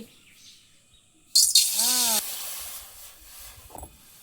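Water poured into a pan to make sugar syrup for rasmalai: a sudden loud gushing hiss lasting about a second, then trailing off into quieter background noise.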